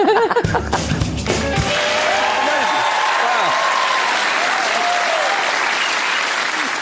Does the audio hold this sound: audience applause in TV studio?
yes